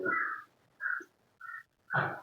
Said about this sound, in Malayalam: അലക്കണുണ്ട് കാക്ക കരയുന്നുണ്ട്